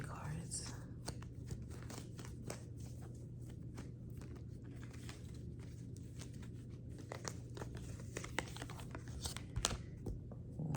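Tarot cards shuffled close up during a quiet early-morning reading, a soft continuous flurry of papery riffling and crinkling, with a steady low hum beneath and faint murmured talk.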